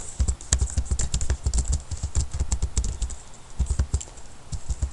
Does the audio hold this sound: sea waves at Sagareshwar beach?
no